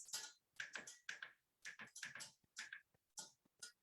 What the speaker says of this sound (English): as soon as we lower the temperature, that clicking sound will stop